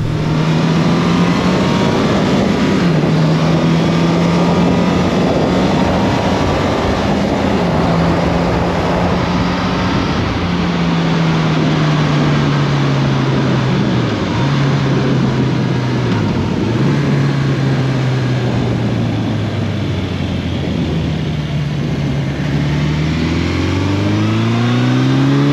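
Suzuki GS1100E motorcycle engine accelerating hard through the gears with heavy wind blast, a loud sustained roar with pitch climbing and dropping at shifts, continuous rushing wind over it.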